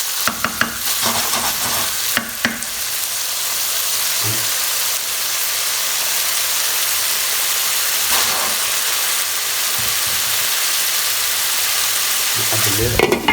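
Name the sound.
tomato puree cooking in pan for chickpea curry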